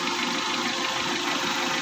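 A repaired car engine idles steadily at close range, with a constant mid-range hum and faint knocking texture throughout and no talking.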